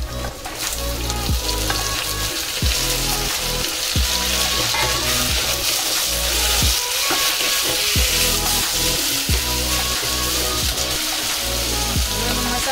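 Onion, tomato and bottle gourd sauté in a pan with a strong, constant sizzle, punctuated by repeated soft scraping and stirring knocks, close and loud throughout.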